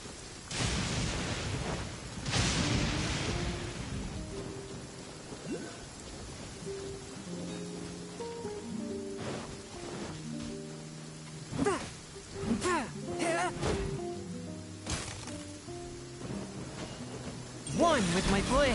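Steady rain falling, hissing throughout beneath a man's spoken lines and bursts of music, with sharper impacts and louder swells near the end.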